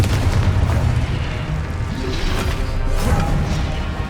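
Confringo blasting spell exploding in Hogwarts Legacy, a few heavy booming blasts and crashes close by, loud amid combat noise.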